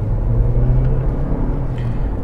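A 2020 Toyota C-HR 2.0L hybrid SUV with a CVT pulls hard under full throttle, giving a steady, droning engine rumble from inside the cabin that holds at an even level throughout.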